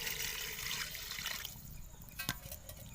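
Water poured into a pot of fried beef for pulao, a steady broadband rush for about a second and a half that then thins to a quieter trickle with a brief splash near the end; no talking.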